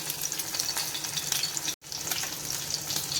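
Sardines fry on a dosa stone with a steady, close hiss of oil and crackling, broken by one brief gap of silence midway.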